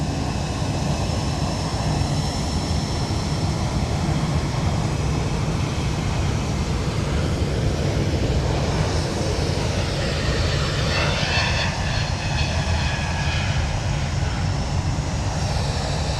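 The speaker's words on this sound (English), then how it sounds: "DHL A300 is coming back out to play" A DHL Airbus A300 cargo jet's engines roar loud and continuous at London Luton Airport, a steady, broad rumble that holds for the whole stretch.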